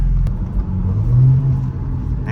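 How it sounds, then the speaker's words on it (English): BMW X4M with the S58 engine accelerating under boost, a deep, loud exhaust rumble heard from inside the car, rising slightly in pitch over about two seconds with no talk. "It's definitely a little bit different exhaust tone to it, so let's see what it does under boost."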